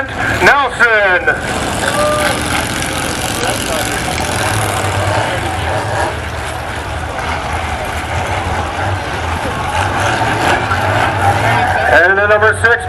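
Truck number 136 running at a Pumpkin Smash event, its engine a steady loud rumble throughout while an announcer talks over it.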